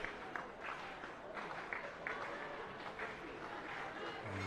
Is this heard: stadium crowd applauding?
yes